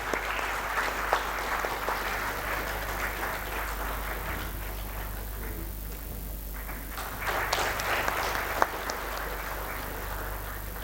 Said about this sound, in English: Can I have a big round of applause for both of them?